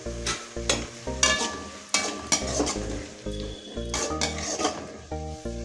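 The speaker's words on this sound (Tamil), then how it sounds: "தக்காளி நல்லா வதக்கிக்குங்க பாருங்கள்" Tomatoes sautéed in a pan with chicken masala powder, a spatula scraping and stirring in repeated strokes over a steady close sizzle.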